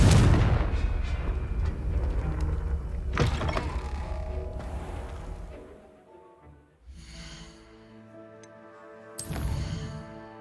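Combat spells cast in Hogwarts Legacy: loud, dense magical blasts and impacts, with sharp bursts near 3 and 9 seconds. The action thins out into softer tonal shimmering and ringing effects, then flares up again with one bright final hit.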